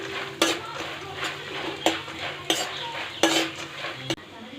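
Grated coconut with peanuts frying in oil, a low sizzle broken by several sharp metallic clanks and scrapes of a spoon against the pan.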